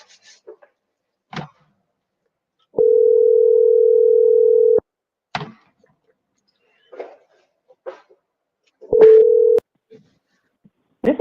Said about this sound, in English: Let's try and get Buffy on the phone.